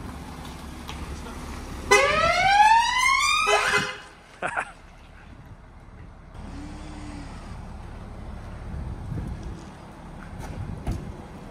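An air ambulance response car's siren gives a couple of loud, rising whoops, then cuts off, leaving quieter background noise and some distant voices.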